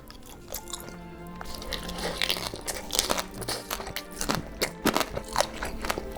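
Seafood boil with crab, lobster, scallops and shrimp being eaten up close, with crunchy bites, wet squishy chewing and crinkling in irregular bursts, and no talking.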